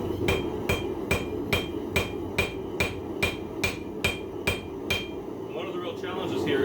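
Blacksmith hammering hot steel on the horn of an anvil at night: a steady run of about a dozen sharp, ringing metallic blows at even spacing, close and prominent over a constant background hum.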